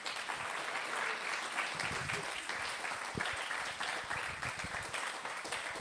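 An audience at a book talk with a physics professor breaks into sustained applause, a dense, steady wash of many hands clapping that holds evenly throughout with no speech over it.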